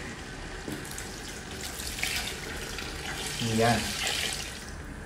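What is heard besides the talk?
water added to a pot of lugaw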